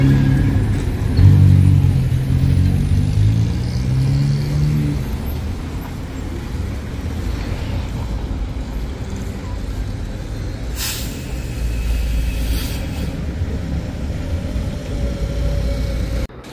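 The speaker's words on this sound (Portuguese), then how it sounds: "Volvo BZN da Santa Brígida, o primeiro ônibus elétrico dela e da região." Volvo BZL electric bus arriving on line 975A, a low hum with road and traffic noise around it, plus a couple of brief hisses. Speech comes early on.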